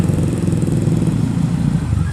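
A motorcycle hesitating ahead at a road junction at night, with a steady, throbbing engine drone that stays close and fairly loud throughout, no talking.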